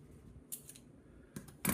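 Scissors snip through paper in a few quick, close cuts, short crisp bursts separated by brief pauses in a quiet room.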